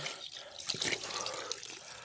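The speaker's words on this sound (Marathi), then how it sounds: "हे बघा काय भारी पाणी येते हापशातून" Water splashes and gushes from a hand pump in a forest village in the Konkan hills, a close, uneven pour and spatter with brief surges, fairly faint overall.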